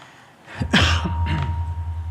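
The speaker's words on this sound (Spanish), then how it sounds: "Esta tos que puede que surja de vez en cuando" One close cough from a speaker during a university lecture, a loud harsh burst followed by a weaker second push, then a low hum lingers.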